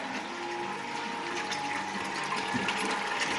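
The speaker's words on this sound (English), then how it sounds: "This is still draining out." Beer wort drains out of a mash tun in a constant, even rush of flowing liquid, close by, with no pauses and no voices.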